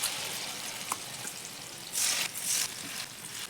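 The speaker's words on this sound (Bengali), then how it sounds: "সব ব্যাটারগুলো খুব ভালোভাবে কোট করবো আর তেলের মধ্যে দিয়ে দেব" Batter-coated atta pieces frying in hot oil make a soft, steady sizzle, broken by two louder hissing bursts as more pieces drop in.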